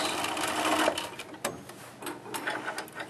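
A sewing machine back stitches a ski hat, its needle whirring in a steady close run that slows, pauses and restarts in short bursts.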